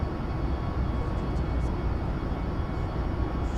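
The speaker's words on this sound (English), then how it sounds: "this airplane's loud" Engine noise in the flight deck of an iFly Boeing 737 MAX 8 in Microsoft Flight Simulator 2024, a loud, steady roar and rumble that runs unbroken with no talk.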